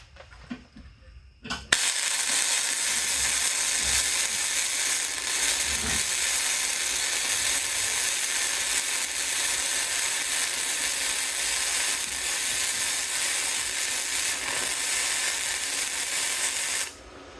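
A Bestarc MIG145 MIG welder runs at 120 amps and 19.7 volts on thin metal, producing a loud, steady, unbroken crackling hiss for about fifteen seconds after a brief quiet start, then cutting off.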